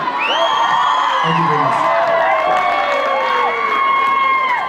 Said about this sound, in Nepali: प्लिज जोरदार ताली फेरि